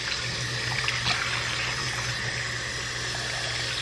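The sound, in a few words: tap water running while rinsing shampoo out of hair extensions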